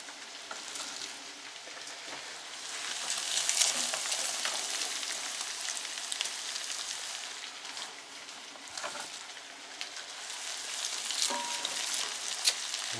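Chopped onion fries in oil in a pan for a lean buckwheat dish, giving a steady close hiss and crackle with occasional louder pops and stirring scrapes, no one speaking.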